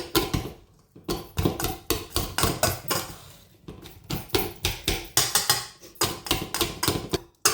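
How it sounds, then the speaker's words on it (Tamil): Boiled plantain being mashed for a Tamil-style sambal gives a steady run of quick, close knocking thumps, with brief pauses between bursts of strokes. "அதுக்கப்புறம் நான் இதை வச்சு மசிக்கிறேன்"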